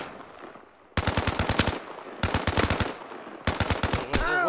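Rapid automatic gunfire from the video game Arma Reforger, loud and close, coming in three dense bursts of sharp repeated shots after a quiet start, with a ringing tail at the end.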